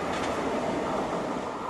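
A CC 68000 diesel locomotive rolls along the rails with a steady, dense rumble and hiss, continuous and fairly close.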